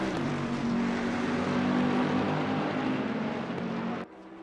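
Race cars roaring around Bathurst in a racing video game, a steady loud engine drone close by that cuts off abruptly near the end, with no talking.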